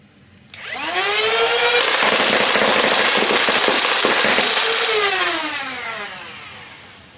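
Nerf EMission V6 full-auto flywheel blaster with its barrel attached, spinning up sharply and firing Adventure Force waffle darts in a loud continuous burst, its whine rising and then trailing off as the flywheels wind down.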